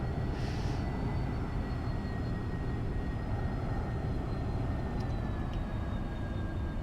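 Aircraft engine in the X-Plane 11 flight simulator, a steady loud droning roar with a constant whine held throughout, with no talk.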